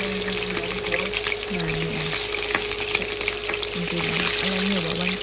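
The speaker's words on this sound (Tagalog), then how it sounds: "magpiprito na tayo ng ating hipon" Shrimp fry in a pan with a continuous sizzle, while a steady hum and warbling tones run underneath.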